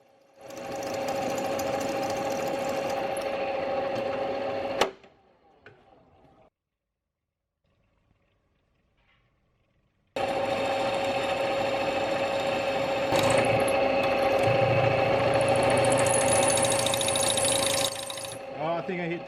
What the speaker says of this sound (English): Then I go with my final size drill bit.